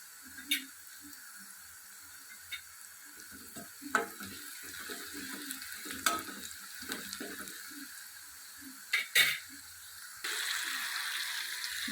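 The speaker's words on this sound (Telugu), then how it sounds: "ఆయిల్ వేడయింది కాబట్టి ఇందులో ఆనియన్స్ వేసుకొని ఫ్రై చేసుకుందాం" Chopped onions frying in hot oil in a pan for a home-style chicken curry, a steady close sizzle with soft scrapes and a few sharp clicks, rising to a louder, denser hiss near the end.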